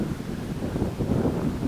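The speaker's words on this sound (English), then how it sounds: "quite a nice day today, a bit windy though" Gusty wind at Penrhyn Bay, Wales, rumbles and buffets against the microphone, a low, continuous roar with no voices.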